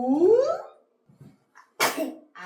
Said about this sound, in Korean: 재채기가 나.